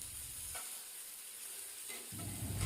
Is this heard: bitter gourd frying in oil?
yes